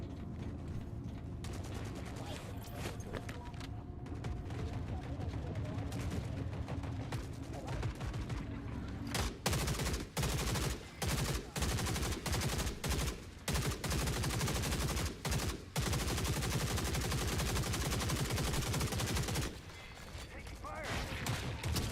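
Automatic gunfire in The Forever Winter, played without a HUD, with quieter mechanical handling first, then loud repeated bursts of shots separated by short gaps, fading near the end.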